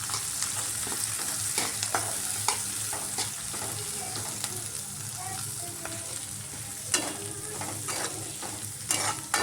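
Onion, green chili and curry leaves roasting in ghee in a pan for upma tempering, a continuous close sizzle broken by repeated scraping stirs and clinks of the spoon.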